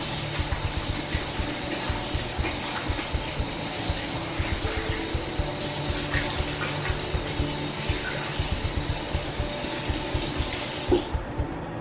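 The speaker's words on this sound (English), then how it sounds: "When I wash my hands" Tap water runs steadily into a sink during handwashing, a continuous broadband rush with small clicks and knocks scattered through it, close by and with no talk.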